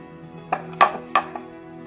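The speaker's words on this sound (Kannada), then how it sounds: "ಈ ಥರ ಚಪಾತಿ ಲಟ್ಟಿಸ್ಕೊಳ್ಳೋಣ" A rolling pin works fenugreek chapati dough on a board, giving a few soft knocking thuds spaced irregularly over a quiet background.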